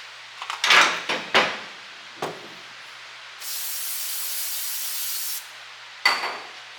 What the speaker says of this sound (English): A little brake clean on the rag.